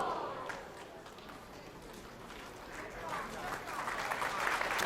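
A bowling alley crowd at a PBA Tournament of Champions event claps and cheers to encourage a struggling bowler, a steady wash of applause that swells toward the end, with voices mixed in.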